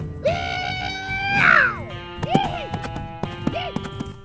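A horse whinnies loudly up close, then gives a couple of shorter snorting neighs, with hoof clopping and rustling movement underneath.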